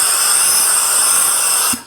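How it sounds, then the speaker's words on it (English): A loud, steady pressurized spray hisses continuously for nearly two seconds as a soap sprayer driven by an air compressor coats a truck, then cuts off abruptly and fades. "you hook this up to the air compressor, and then you just go around,"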